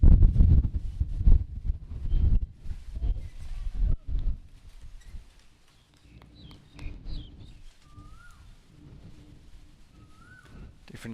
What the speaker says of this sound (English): Hear the big gusts blowing across and around